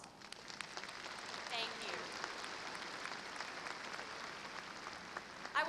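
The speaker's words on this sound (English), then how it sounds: "Let's give them a round of applause." Faint, distant applause rises from a commencement audience at Texas A&M-Corpus Christi's 2018 summer ceremony, a soft steady patter with a brief spoken thanks heard over it.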